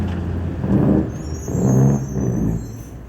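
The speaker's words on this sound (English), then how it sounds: "I'm not sure that concrete mixer was actually mixing concrete as it went past." A concrete mixer truck rumbles past nearby with a low engine roar and clattering rattle, swelling and easing in waves, with a faint high whine above.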